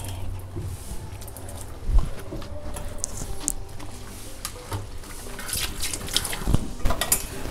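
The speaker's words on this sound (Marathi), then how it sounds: "पहिल्यांदा साफ करण्यापूर्वी अशी धुवून घ्यायची" Spring onions are rinsed by hand in water, with steady close splashing and trickling plus occasional dripping and light knocks against a vessel, and no talking over it.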